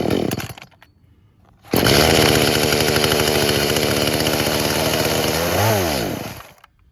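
An Echo CS-310 chainsaw that won't idle sputters briefly, falls quiet, then roars loud and steady at close range before revving up and cutting off.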